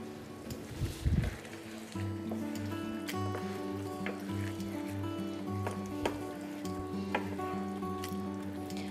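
Mince with mushrooms and pesto cooks in a pan, giving a soft, steady sizzle. A few louder clatters come early, and sustained tonal sounds run underneath.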